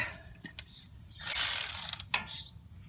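A ratchet tightens a 12mm bolt on the front brakes of a Toyota Tundra 4x4. Close clicking bursts build into a dense, loud run of pawl clicks, followed by a few brief final clicks.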